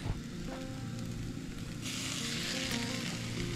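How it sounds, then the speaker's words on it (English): Beef goes into a hot pan over translucent onions at a forest campsite. A steady sizzle swells into a louder, brighter hiss partway through, with no voices. "All right, now that they're translucent, we're gonna go ahead and add the beef."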